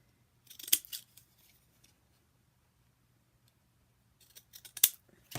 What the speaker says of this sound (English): And the scalloped edge scissors are kind of neat.